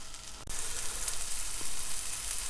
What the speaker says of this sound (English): So the fish has literally just gone in